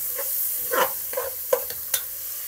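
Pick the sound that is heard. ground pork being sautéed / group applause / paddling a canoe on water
ground pork being sautéed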